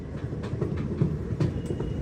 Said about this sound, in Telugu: సదూరా స్టేషన్లో స్లో అవుతుంది